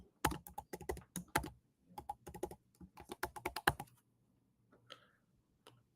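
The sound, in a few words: typing username and password on a computer keyboard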